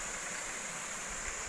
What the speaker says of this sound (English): this is the Oakley Creek Waterfall